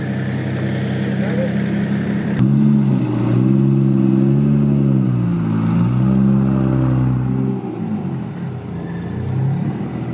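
Toyota Supra with a 2JZ engine idling and revving, a deep, loud harmonic drone that climbs and falls in pitch through several revs before settling, with a voice speaking briefly near the start.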